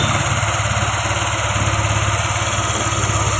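A Yamaha Aerox 155 scooter engine idles steadily up close, a loud, even, fast-pulsing hum with a high whine, running during a battery charging check.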